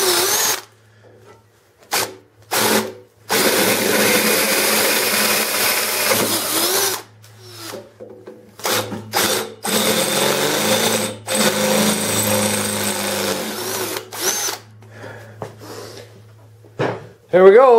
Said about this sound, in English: We'll start out with a little bit smaller bit and work our way up to a half inch.